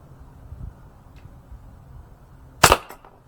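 Umarex Glock 17 Gen 5 T4E marker pistol fires a single sharp crack, close and loud, followed by a short rattle, against a quiet background with faint low thumps.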